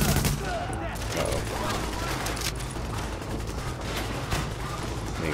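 Rapid bursts of gunfire from the video game The Division crackle and rattle in quick volleys at moderate volume, with sharp louder shots scattered through a busy game soundscape.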